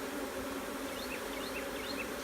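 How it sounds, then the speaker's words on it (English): A strong honeybee swarm hums in a steady, dense drone, close and continuous, with a few higher passing buzzes of individual bees. "good swarm, very solid swarm. They seem pretty strong."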